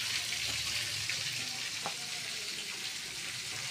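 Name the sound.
tilapia frying in oil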